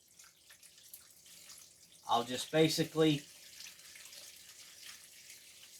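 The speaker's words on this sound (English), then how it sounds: "pour a little bit in there to start with, because these cups are kind of dry" Water is poured in several short splashing bursts into dry potting-mix cups holding Ailsa Craig onion seedlings, close and fairly soft, with a person speaking quietly just before.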